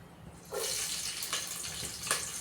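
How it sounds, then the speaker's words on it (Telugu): Green chillies hit hot oil in a pan while fish curry is being cooked, setting off a sudden, close, steady crackling sizzle that starts about half a second in and continues with small bursts. "ఆయిల్ వేడెక్కేసింది. పచ్చిమిర్చి వేస్తున్నా."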